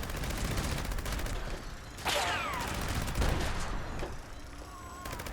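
The Gauss minigun in the video game Fallout 76 fires in long continuous bursts, a dense loud rattle with sharp electric whines and a few brief pauses between volleys.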